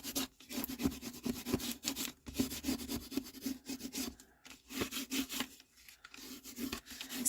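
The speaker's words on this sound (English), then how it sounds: "let's get those rubbed on" Double-sided tape being rubbed down firmly onto paper for a handmade folio album, a near, continuous scratchy rubbing with quick repeated strokes and brief pauses, heard alone.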